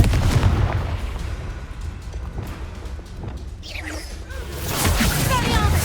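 Confringo blasting curse explosion in Hogwarts Legacy, heavy booming blasts with dense low rumble that run the whole stretch and swell again near the end, amid continuous battle noise.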